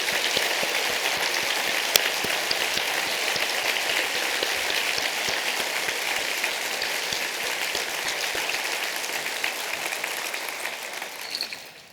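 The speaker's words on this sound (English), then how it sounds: "So just a big applause for all of our readers." Sustained, even applause from an audience at a celebration event honouring readers, a thick hiss of many hands clapping that holds steady throughout and fades only at the very end.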